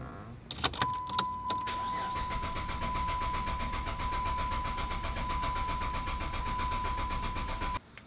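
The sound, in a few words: car engine cranking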